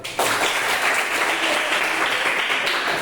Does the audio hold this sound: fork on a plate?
no